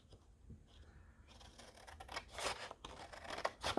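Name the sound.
scissors cutting out paper dolls from magazine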